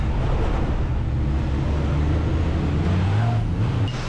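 Heavy race truck rumbling and braking at the bottom of a long downhill on the Charade circuit, a steady loud low engine drone with faint hiss, no talk.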